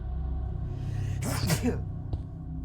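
A sudden, sharp sneeze bursts out from a person nearby over a low background rumble, followed by a brief faint click.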